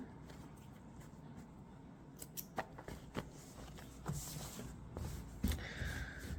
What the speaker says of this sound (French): ici, on va couper là